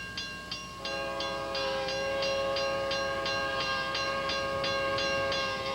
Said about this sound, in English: Now the train's going, making this different kind of horn, which I've never heard.